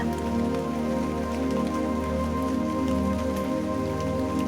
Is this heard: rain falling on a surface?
yes